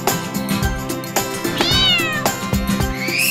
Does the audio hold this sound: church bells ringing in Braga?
no